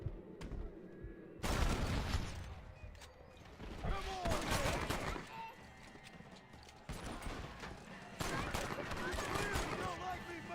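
Gunfire in the video game Red Dead, bursts of sharp shots in several loud clusters with quieter stretches between, mixed with voices talking.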